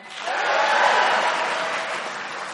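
A crowd at a live show claps and cheers, a broad sustained burst that rises quickly, peaks near the middle and tapers slightly, with no talk over it.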